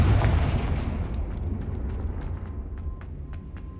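Confringo fire-blast spell exploding in Hogwarts Legacy, a loud booming blast up front that rolls off into a long rumbling decay with faint crackles, no voices.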